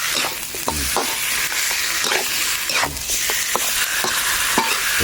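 Curry paste for Thai pork lung curry stir-fried in oil in a pan, a loud continuous sizzle with repeated scraping strokes of a spatula, close up and with no talking.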